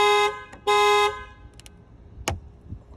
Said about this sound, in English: first of all we're gonna make a key to stop those alarms